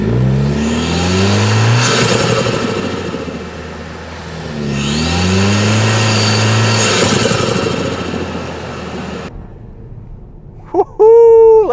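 A 2024 Toyota Tacoma engine fitted with an SXTH Element cold air intake, recorded from inside the engine bay while driving: two rising revving pulls with gear shifts, then a sudden drop to quiet and a brief loud burst at the end.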